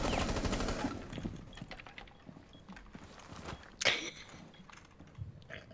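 Gunfire from the video game Rainbow Six Siege, with bursts of shots crackling through a busy in-game mix in the first second and one loud, sharp shot near the end, close and prominent.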